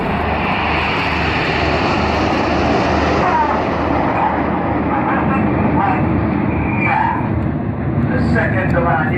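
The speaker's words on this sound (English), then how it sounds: "This is Typhoon." A Eurofighter Typhoon jet flies at the Sunderland airshow, its engines a loud, sustained roar across the whole stretch while an announcer's voice carries over it.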